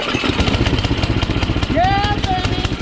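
A 13HP Tecumseh engine on an MTD Yardworks 33-inch snowblower chugs and runs in a rough, loud, pulsing rhythm close by, with a voice calling out over it.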